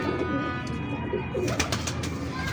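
A pet pigeon of a fancy breed coos softly and repeatedly at close range over a steady background hum, with no talking.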